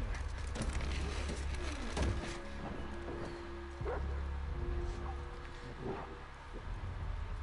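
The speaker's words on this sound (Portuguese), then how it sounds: "There are dogs now." Dogs bark in The Last of Us Part II. Short yips and barks repeat at a moderate distance over a dense game soundscape and a low rumble.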